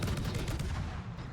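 Gunfire from the French cruiser Colbert in the naval game World of Warships, a dense, sustained rumbling barrage with crackling bursts, loud and continuous across the short moment.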